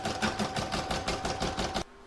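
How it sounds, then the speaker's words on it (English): An embroidery machine stitches the outline of an in-the-hoop crazy patch bag, a rapid even mechanical chatter of needle strokes, close and steady, stopping abruptly near the end. "I'm going to put it in my machine and stitch round 1"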